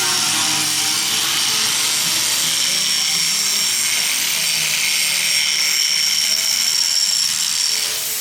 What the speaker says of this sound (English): And then Eddie's grinding the tubs down, look.